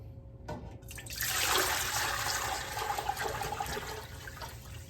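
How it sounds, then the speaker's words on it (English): Water swirls and churns steadily in a tank filled to the max line, stirred by a sous vide circulator, a constant close rushing wash that stays alone without any talk. "It's just gonna slowly circulate the water and everything in it."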